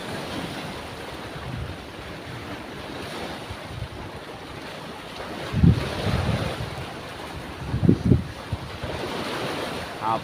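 Big waves surge and break around a small fishing boat at sea, with steady wind roar over the mic and two heavier wave crashes standing out near the end.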